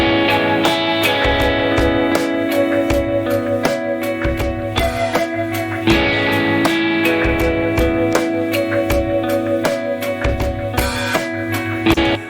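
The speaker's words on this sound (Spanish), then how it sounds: "Y ahora si a esto le agregamos nuestra batería, suena así." A wide, spacious stereo guitar arrangement of a Silent Hill theme with a drum kit added, sustained chiming guitar notes over a steady beat of kick, snare and cymbals, loud and continuous with no speech.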